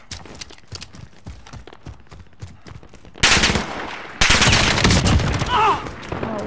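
Rapid gunfire from Call of Duty: Modern Warfare, a patter of repeated shots that swells into two loud, dense bursts of fire in the second half, with game effects layered on top.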